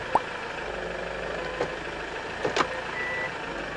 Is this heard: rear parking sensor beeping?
yes